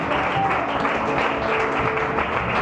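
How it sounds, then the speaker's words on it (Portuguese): A church congregation applauds loudly during a worship service, a continuous, dense wash of clapping that fills the space with no pause. "Aplauda bem forte ao Senhor."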